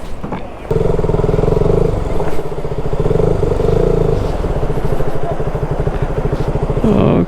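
A motorbike rides across hard-packed sand, its engine a steady, close, buzzing drone after a brief quieter start, with faint clatter and scraping mixed in.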